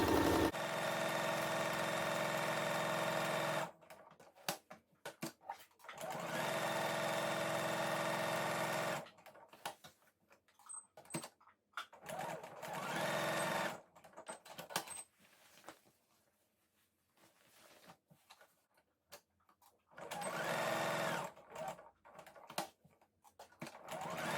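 A sewing machine stitches around the pocket bag of a pair of comfy pants at regular stitch length, running in several steady bursts separated by short stops and quiet handling.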